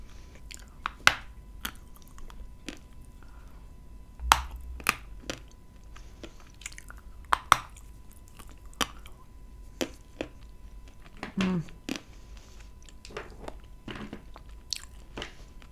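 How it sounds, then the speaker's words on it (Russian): Crisp bites and crunchy chewing of dense Turkestan candy, close-up and quiet, with scattered sharp cracks and softer munching spread irregularly over a hushed background. "Откусить тяжело, но хрустит обалденно."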